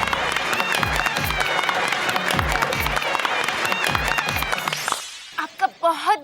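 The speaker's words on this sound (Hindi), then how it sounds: "तालियां।" An audience claps and cheers in a loud, dense burst while rhythmic thumps run underneath, then the applause cuts off and a voice starts speaking.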